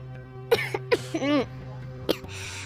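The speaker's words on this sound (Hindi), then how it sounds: "उसे एकदम से ठसका लग गया और वो खांसने लगा" A few sharp coughs and throat-clearing bursts from someone who choked on water, close and fairly loud, with brief gaps between them and a low hum underneath.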